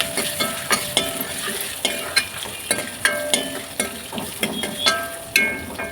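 Small onions sizzle in hot oil while a spoon stirs them in a regular rhythm of repeated scraping clicks, close and continuous over a constant frying hiss with no voices.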